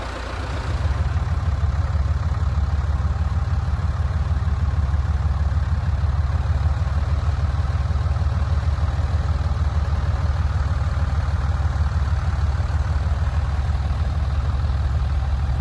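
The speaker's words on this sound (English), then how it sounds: "So I went up to the house and got the tractor." A tractor engine idles and runs steadily nearby with a deep, continuous low rumble that holds at an even level for the whole stretch, outdoors in the bush.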